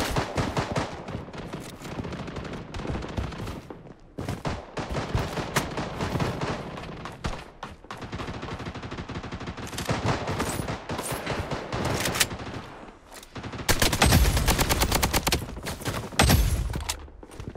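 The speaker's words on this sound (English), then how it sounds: "Taking fire!" Rapid bursts of automatic gunfire from the Blood Strike shooter game, with an assault rifle rattling in sustained volleys and heavier loud bursts near the end.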